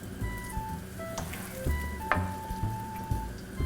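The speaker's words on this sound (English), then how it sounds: "I have it melting in my pan on medium-high heat" Butter melting in a pan over medium-high heat for bananas Foster gives a steady, soft sizzle and crackle. A few brief pops and clinks sound close by.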